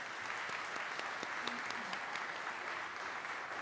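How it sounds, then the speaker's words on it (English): A crowd applauds steadily throughout, a dense wash of many hands clapping at once with a few sharper individual claps standing out. "let's open up with a round of applause for our scholars"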